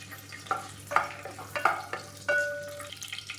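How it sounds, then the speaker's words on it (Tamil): Whole spices including fennel seeds, cardamom and clove frying in hot oil for Madurai-style mushroom biryani, giving soft intermittent crackles and pops with a faint steady sizzle, close and fairly quiet, no talking. "சோம்பு நல்லா பொரியுது"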